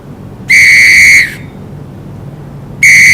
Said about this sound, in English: yes, whistling, especially indoors